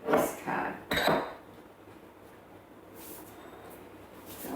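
Metal spoon clinking against a bowl among dishes while mixing sourdough discard with flour in a kitchen, two quick bright clatters near the start followed by quiet room tone.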